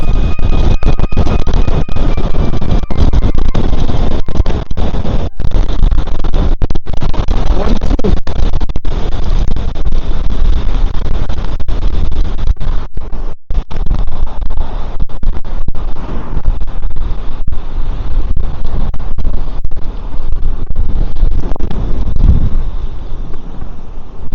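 Strong wind roaring into the microphone while cycling on a commute home, loud and continuous with gusty buffeting and crackling throughout.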